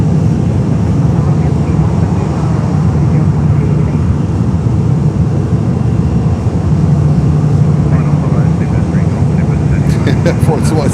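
Airplanes taking off at Fort Lauderdale airport make a sustained broad jet roar that fills the whole stretch, steady and fairly loud, with voices talking over it.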